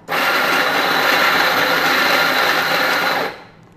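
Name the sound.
Ferratti Ferro FGM-700AC coffee grinder grinding coffee beans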